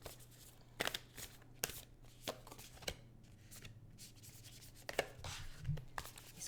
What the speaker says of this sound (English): I actually have to turn them and shuffle them this way